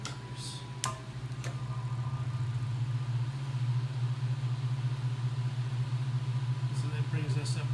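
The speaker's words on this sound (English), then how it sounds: "And now we'll flip to both motors." Two motors running together on a Marvelous Marvin machine, producing a steady low hum with a faint regular ticking over it, continuous and close after a brief switching click.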